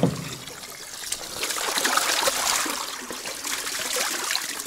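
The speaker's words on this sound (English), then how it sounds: "So I'm just gonna slosh them around and then kind of just squeegee my hand down here to get rid of some of the water." Animal hides, including squirrel, sheep and cattle hides being oak tanned, are sloshed about in water and squeegeed by hand, giving continuous splashing and dribbling close by with a sharp splash at the start.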